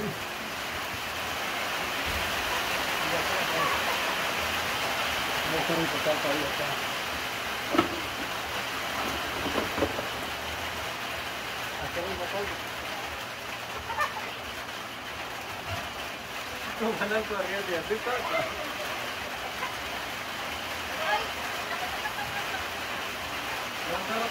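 Heavy rainstorm in El Salvador, a steady broadband roar of pouring water that holds throughout, with voices talking faintly underneath.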